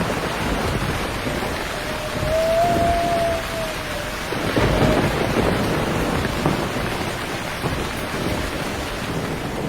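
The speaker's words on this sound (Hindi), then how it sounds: "क्या ये मूसलाधार बारिश कभी नहीं रुकेगी?" Heavy downpour hisses steadily over a village during a thunderstorm, with low rumbling thunder rolling beneath the constant rain for nearly ten seconds.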